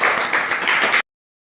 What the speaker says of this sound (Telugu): క్లాప్స్ కొట్టండి జగదీశ్వరికి